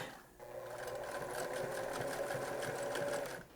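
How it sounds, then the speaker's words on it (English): A sewing machine runs steadily, stitching a zigzag along the bottom of a turtleneck collar, its fast mechanical whir continuous and close for several seconds with no talking. "I'm gonna run a zigzag stitch along the bottom of the neck."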